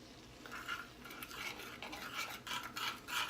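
A utensil stirs seasoning into melted butter in a pan, giving soft, repeated scraping and rubbing strokes close by, fairly quiet and with no talking.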